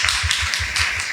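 A church congregation claps hands in a steady, rapid rhythm for just over a second, a dense, close patter of claps with no voices.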